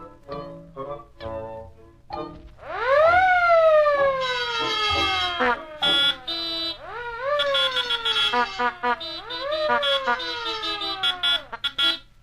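An alarm rigged in a Bugs Bunny cartoon goes off after a few brief cartoon noises, sounding as loud, repeated rising-and-falling wailing siren tones that keep cycling to the end.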